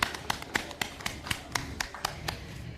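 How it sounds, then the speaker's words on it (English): A small audience applauds the partners and sponsors at a smart meter hackathon, giving sparse, fairly faint claps and taps at an uneven steady pace, with no one talking. "a round of applause for all our partners and sponsors"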